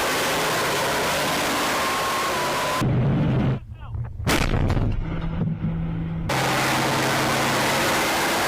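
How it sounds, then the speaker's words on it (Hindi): Heavy artillery-style gunfire from a Russian T-72 tank shelling positions in Ukraine: loud, dense broadband blasts and rumble, with a sharp dip in the middle before the roar returns. "रूसी टैंक से यूक्रेनी टैंक पर अटैक किया, दोनों ओर से जबरदस्त गोलाबारी"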